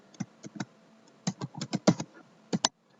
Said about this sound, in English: typing the captcha.